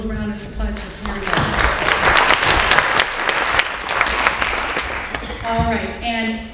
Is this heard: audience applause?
yes